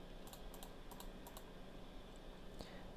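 Keys clatter in short bursts of typing as coordinates go into a DCS Mirage F1EE cockpit, a few quick clusters of taps followed by sparse single presses over a steady background hum.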